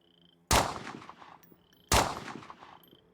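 Two sharp gunshots ring out in the Survive the Nights video game, fired at a target about a second and a half apart. Each has a loud crack and a decaying tail, and no talking is heard.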